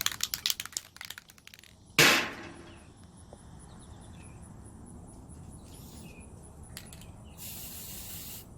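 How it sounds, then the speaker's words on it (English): Aerosol spray can blasting white paint onto the middle of a tumbler in one loud hissing burst, with sharp clicks and rattles before it and a quieter hiss near the end. "It doesn't matter if you spray paint anything else white."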